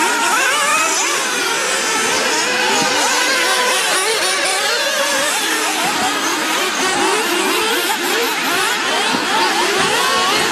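Nitro RC buggy engines from a JQ Products THE Car race, several small motors buzzing and whining continuously on the track, loud and dense throughout with overlapping revs and no voices.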